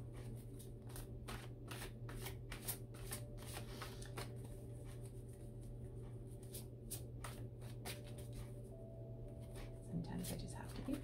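Tarot cards are shuffled in a steady run of quick, crisp riffling flicks, close and quiet, repeating throughout with a faint low hum beneath.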